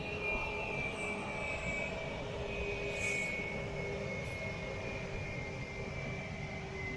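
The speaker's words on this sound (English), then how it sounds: "Extra bonus to see a plane take off." An airplane takes off at Gibraltar, a steady distant jet roar with a faint high whine, holding at an even, fairly soft level throughout with no voices.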